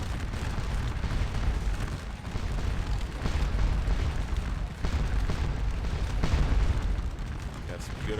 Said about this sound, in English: Got some good artillery shots here.